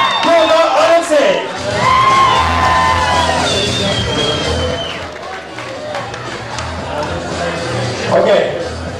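A lively student crowd at a 2009 university freshers' ball, cheering, whooping and clapping loudly and close, a dense continuous roar with a voice speaking over the noise.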